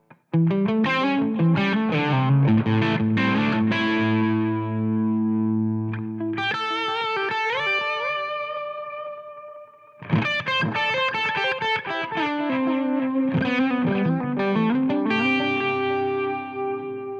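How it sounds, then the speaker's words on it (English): Distorted electric guitar through a Line 6 Helix transistor tape delay plays melodic phrases with echoing delay repeats trailing each note, loud and continuous with a brief pause midway. "I really love adding that transistor tape in whenever I need some great delay tones"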